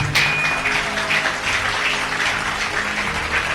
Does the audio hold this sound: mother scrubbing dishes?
no